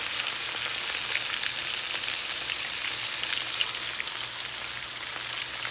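Shrimp frying in hot oil while Southern fried catfish is being made in a home kitchen, giving a steady, dense crackle and sizzle that holds at an even level throughout, with no talking.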